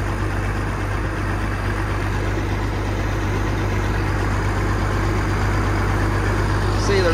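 An old Massey tractor engine drones steadily and loudly throughout, a constant low rumble as it drives along an airfield runway, with no break in the sound.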